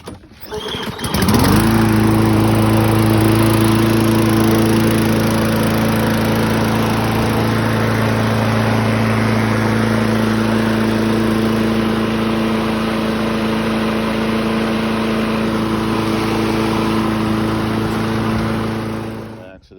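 A circa 2003 Toro Personal Pace rear-wheel-drive mower with a 6.5 hp Tecumseh engine starts and settles into a loud, steady, close-up drone with strong harmonic tones, running evenly until it fades near the end.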